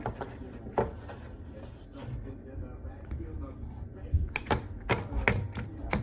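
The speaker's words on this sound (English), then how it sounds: "Let me shuffle a little bit for whenever the next time I want to do it" Tarot cards being shuffled by hand, giving quiet crisp riffling taps that cluster into a burst of sharp clicks near the end, with a faint voice at times.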